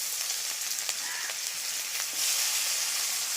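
Dry red chillies, cinnamon, cardamom, cloves and cumin sizzle steadily in hot oil in a kadai, a continuous close hiss with a few sharper crackles and pops scattered through it.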